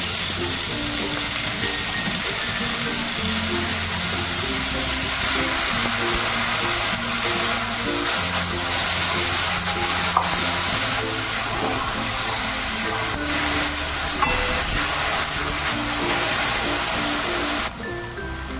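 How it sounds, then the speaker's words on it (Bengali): Rice frying in ghee and oil with spices, sizzling steadily in the pan as a continuous hiss with low background tones, then easing slightly near the end. "ঘি আর তেলের সাথে ভালো করে ভেজে নেব"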